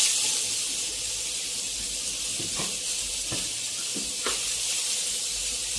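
Tomatoes and onions sautéing in a pan for spicy semiya, a steady soft sizzle and hiss running throughout, with a few faint clicks of utensils and no voices.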